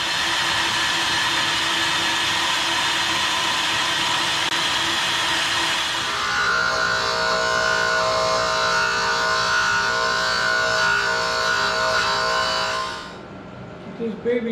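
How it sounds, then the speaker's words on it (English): Welding steel to fill gaps on a DIY gym equipment holder: a steady, loud hissing buzz that runs continuously for about thirteen seconds, shifting tone partway through, then cuts off. "We'll just stick it like that and then fill in the gaps with weld."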